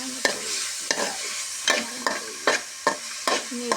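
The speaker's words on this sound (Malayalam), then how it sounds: "ഇനി ഇത് നമുക്ക് നന്നായിട്ടൊന്ന് ഫ്രൈ ചെയ്ത് ഒന്ന് വഴറ്റിയെടുക്കാം" Beef fry with coconut pieces being sautéed in a pan: a regular series of about eight scraping stirs over a soft steady sizzle, close and clear.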